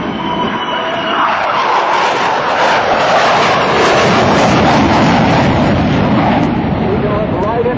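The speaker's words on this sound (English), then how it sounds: "here comes the Super Hornet" A Boeing F/A-18F Super Hornet fighter jet at an air show roars past, loud, with a broad jet-engine rush building and sustained throughout, no speech over it.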